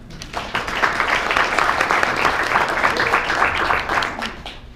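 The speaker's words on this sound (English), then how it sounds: "How about a round of applause for me?" Sustained applause from an audience at a business presentation, steady and fairly loud throughout, with a faint murmur of voices underneath.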